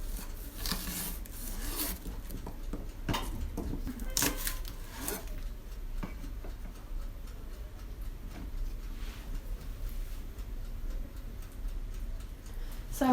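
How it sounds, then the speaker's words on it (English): A knife chops asparagus and radishes on a cutting board for a spring tart, giving a quick run of sharp taps close by, then fainter, sparser cuts over a low background hiss. "Right now I'm cutting up the asparagus. I'm also going to cut up the radishes, and I'm going to add them to the tart."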